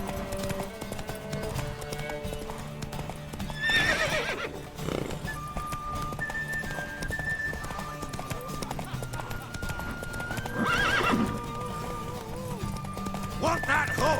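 A horse in the video game The Witcher 3 neighs twice amid steady clip-clopping hooves, with game music and character voices running underneath.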